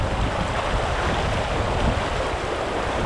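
The high Vedder River rushes steadily in a loud, unbroken broadband roar of flowing water with some wind buffeting, no voices over it.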